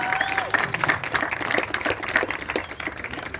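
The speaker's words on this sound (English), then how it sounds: "Round of applause, please." Audience applause at a mental health charity walkathon event, a steady patter of many hands clapping at moderate loudness, with faint crowd murmur and a brief tone near the start.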